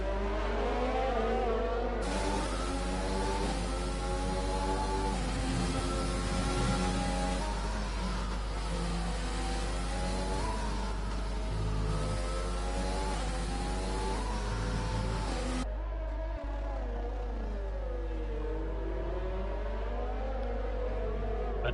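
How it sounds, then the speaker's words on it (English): Formula 1 cars in F1 2020 race at the Vietnam circuit, including a Red Bull, with sustained loud engine whine rising and falling through gear changes, then a sudden drop in intensity near the end. "Supra's got brilliant straight line speed in that Red Bull"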